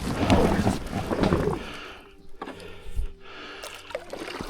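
A packraft pushes off a riverbank into the Pilica river, with water sloshing and splashing against the boat, louder at first and then settling into quieter trickles and drips close by.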